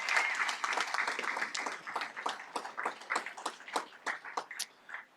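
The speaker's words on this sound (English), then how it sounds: "So give him a round of applause for that." An audience at a school board meeting claps steadily in a dense patter that thins into scattered separate claps as it fades out near the end.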